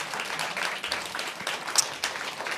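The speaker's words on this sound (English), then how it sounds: "give them rounds of applause" Audience applause at a Los Angeles small-business event as names are called on stage, a dense steady wash of clapping filling the whole moment with no voices over it.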